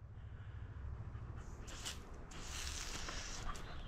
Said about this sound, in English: This dog can do a flip in the air.